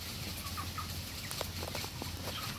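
Dense flock of chickens in a crowded poultry house with automatic feed lines and blowers, giving a continuous murmur of clucks and chirps over a steady fan hum, no voices.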